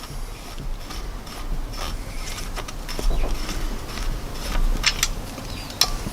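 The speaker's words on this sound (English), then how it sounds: "unscrew the spare air" A 3000 PSI Spare Air mini scuba tank has its cap unscrewed, giving a run of close, soft ratcheting and rubbing thread clicks with small metallic ticks and no talk.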